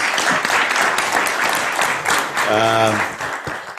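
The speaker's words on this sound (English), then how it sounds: "A round of applause to our colleagues." An audience claps steadily in a sustained round of applause, with a voice briefly heard over it.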